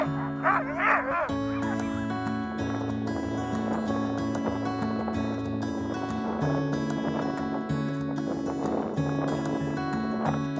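Sled dogs bark and yip at the start of the Femund Junior race at the 2025 sled dog world championship in Røros, their sharp calls partly buried under loud, steady music.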